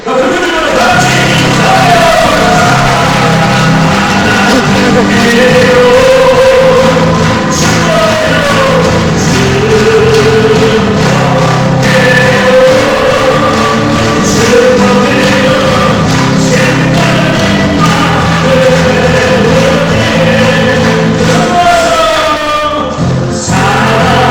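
Cheering and applause from an audience at a European Holy Spirit retreat session, a loud continuous crowd roar with shouts and clapping that holds steady throughout before dropping briefly near the end.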